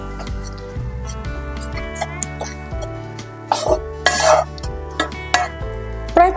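Karanji filling of jaggery being stirred in a pan on a low flame, with irregular scraping and tapping of a spoon against the pan over a steady background hum.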